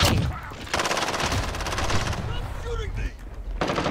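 Rapid shotgun blasts in the shooter game Call of Duty, a dense run of loud repeated shots with brief gaps, mixed with game effects and faint voice chat.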